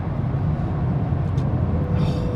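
An Aston Martin Vantage moving at low speed gives a steady, close, deep engine rumble with a continuous low growl throughout and no talking.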